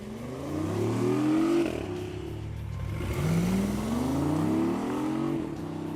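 A 2019 BMW i8 Roadster plays a synthetic engine sound through a rear bumper speaker, rising in two smooth revving sweeps with a dip between them, loud and close.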